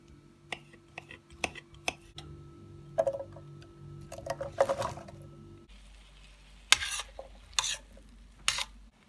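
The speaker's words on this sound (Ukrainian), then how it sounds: "І тепер мені потрібно посмажити гриби" Quiet frying of mushrooms in butter with intermittent clinks and scrapes of a utensil stirring the pan, sharp knocks standing out over a soft sizzle.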